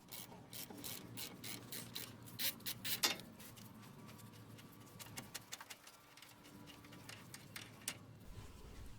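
A ratchet and 14mm socket working loose the upper strut fork bolt on a Honda Civic during a CV axle job, a run of quick close rasping clicks in bursts, then quieter scraping.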